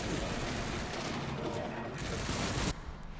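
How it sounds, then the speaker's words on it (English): Dense game gunfire from the survival horror game Resident Evil Requiem, a sustained rattle of many shots at fairly loud level under a voice, cutting to quieter ambience near the end. "And you want to be quick here to get away from the gunshots."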